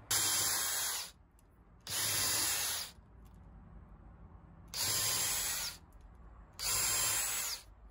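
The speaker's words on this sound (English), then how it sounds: "all you have to do is mark your spot and drill 4 holes for your mounting bracket" A power drill whirs in four separate bursts of about a second each, drilling holes for a mounting bracket, loud and close, with short quiet pauses between them.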